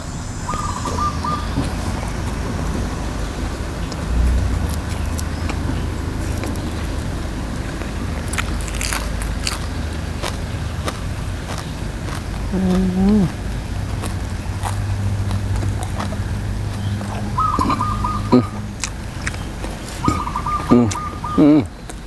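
A rooster crows a few times at a distance, its drawn-out calls rising over steady background noise while people talk through much of the scene.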